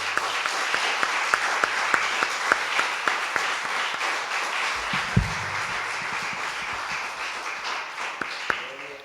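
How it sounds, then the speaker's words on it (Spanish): A church congregation applauds, steady crowd clapping with a few sharp louder claps, moderately near, while a brief low voice comes through partway. "Denle un aplauso al Señor."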